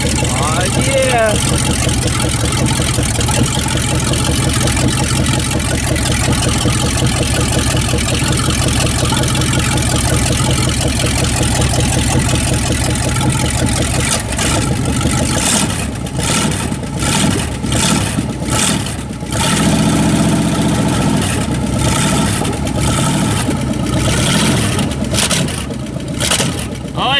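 A 1967 Dodge Dart engine with open cylinder heads idles roughly and loudly throughout, a dense mechanical clatter and rumble that swells with brief revs toward the end, while people talk over it.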